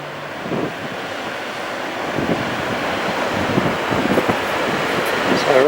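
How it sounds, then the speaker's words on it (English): Ocean surf rolling in on Tasmania's exposed west coast, steady broadband wash with repeated wave surges, overlaid by constant wind buffeting the microphone; no talking. "So it's a very, very long piece of open ocean."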